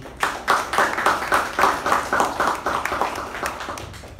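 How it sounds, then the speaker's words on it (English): A small group at a Toastmasters-style meeting claps steadily and evenly for a few seconds for speakers, the applause holding level and then tapering slightly toward the end. "Let's give one more huge round of applause for Latha and Amar."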